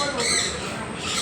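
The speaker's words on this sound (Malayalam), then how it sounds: "അതാണ് പാം കൊക്കാറ്റു." A palm cockatoo at a zoo gives a harsh, loud, sustained squawk, close and bright.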